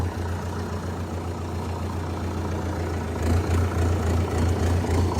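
A Sonalika RX 60 tractor engine idles steadily nearby, a continuous low diesel rumble that swells slightly louder in the second half with no talking.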